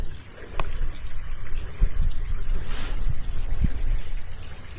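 Water in a small creek on rural California land runs steadily nearby, a soft continuous trickle and burble with light splashing, fairly close and unbroken, no voices over it.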